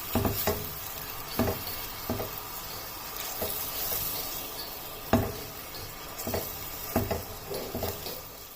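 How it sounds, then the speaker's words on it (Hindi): Onions fry lightly in oil in a pan for chicken achar gosht, a steady sizzle broken by periodic stirring scrapes and clanks of the utensil against the pan, close and clear, with no speech. "हल्का सा फ्राई होने देना है, बहुत ज़्यादा डार्क नहीं करना"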